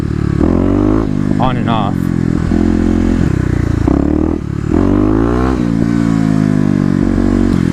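A Kawasaki KLX250 dirt bike fitted with an EJK fuel controller accelerates hard at wide open throttle, its loud engine note rising and falling through gear changes close by, with a rider's voice briefly audible over it.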